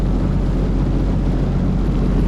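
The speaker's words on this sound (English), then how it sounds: "Now I'm just going through all this trash with my jet pump." A Sea-Doo Fishpro personal watercraft's jet pump churns through trash-filled water, a loud, continuous engine and water drone with no break.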